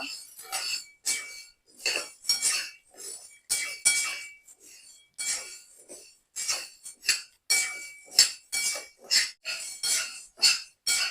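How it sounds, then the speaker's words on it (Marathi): Sago pearls (sabudana) being dry-roasted in a pan over a low flame, with a steady run of rhythmic scraping and rattling strokes roughly twice a second, close and fairly loud, no voices. "साबुदाणा आपल्याला कमी जाळावरती मस्त हलकासा भाजून घ्यायचा आहे फुलेपर्यंत"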